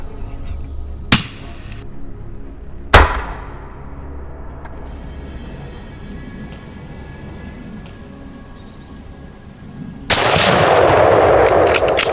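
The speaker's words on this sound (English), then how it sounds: "he held his breath, locked onto a target, and squeezed the trigger. Boom, a clean pinpoint shot" Two sharp, loud rifle shots ring out about two seconds apart during a wild boar hunt, each a sudden crack with a short echoing tail, followed by quieter outdoor ambience and then a rising rush of noise.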